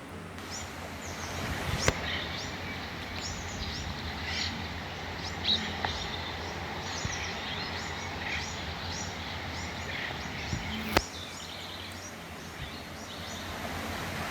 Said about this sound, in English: So this sound is related to what? Can you tell me? Bird.